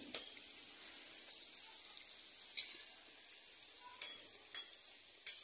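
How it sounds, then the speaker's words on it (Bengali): Pangas fish fries in a pan with a faint, thin, steady hiss and several sharp, isolated pops spaced through the quiet, heard up close without any voices. "এই যে ভাজা হচ্ছে পাঙ্গাস মাছ দিয়ে"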